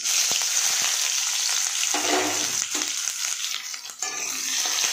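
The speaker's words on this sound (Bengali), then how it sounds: "তেলটা গরম হয়ে গেছে, দিয়ে দেবো হচ্ছে কালো জিরে ফোড়ন আর পেঁয়াজ" Nigella seeds and onion hiss and crackle in hot oil in a pan, a steady loud sizzle with brief stirring scrapes, heard up close and alone.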